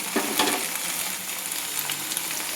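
Ground poppy seed paste with green chilies hits a hot pan for a vegetarian drumstick posto and sizzles steadily and close, with a few soft stirring scrapes near the start.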